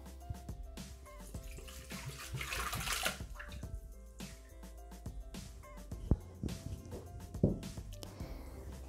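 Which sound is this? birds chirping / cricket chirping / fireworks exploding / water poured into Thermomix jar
water poured into Thermomix jar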